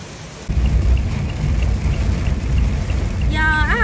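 Heavy rain pours steadily and loud at a Chicago open house, a dense continuous hiss with no letup and a short sweeping tone near the end.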